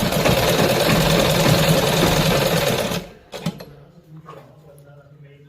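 A sewing machine stitches salwar pleats in a loud, rapid continuous run for about three seconds, then stops, leaving faint handling clicks and a voice speaking.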